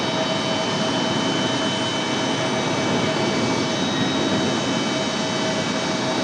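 A jet airliner climbs away from Raleigh Durham on departure for Memphis, a steady, continuous broadband roar at a moderate distance that holds level throughout with no voices over it.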